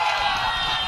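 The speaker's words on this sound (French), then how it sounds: "On applaudit très fort pour la Tangilé" A large crowd at the closing of a festival cheers and shouts in a dense, continuous roar of voices and whoops, loud and sustained, with individual claps lost in the mass of noise.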